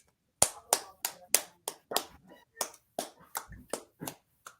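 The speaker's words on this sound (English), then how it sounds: "We got to give it a round of applause to Troy Brouwer." A small group claps at a podcast-style hockey show, a dozen or so distinct, fairly evenly spaced claps heard close up with no talk over them.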